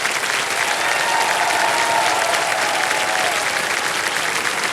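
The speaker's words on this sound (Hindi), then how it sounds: "ताली बजते रहे इनके लिए।" A studio audience on the KBC game show applauds steadily and loudly for several seconds, a dense wash of clapping with no voices over it.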